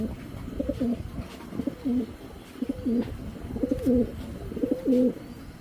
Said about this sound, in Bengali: এইখানে দুইটা সিলভার রেসার দেখাচ্ছি ভাই